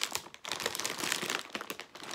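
Crinkling plastic wrapper of a bag of popcorn being handled and pulled at, a close series of irregular crackles and rustles filling the moment, with no talking.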